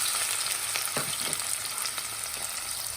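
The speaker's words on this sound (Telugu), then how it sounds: "చూడండి ఆనియన్స్ వేగుతున్నాయి చక్కగా" Chopped onions sizzle steadily in hot oil in a pan, following minced garlic, while preparing a mutton curry; a loud, continuous frying hiss with occasional crackles, no voices.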